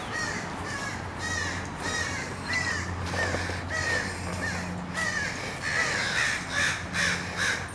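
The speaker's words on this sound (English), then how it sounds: "And we have crows fighting over each other." Crows caw harshly and repeatedly in a cemetery as they squabble, the loud overlapping calls coming one after another over steady outdoor background noise, with no voices.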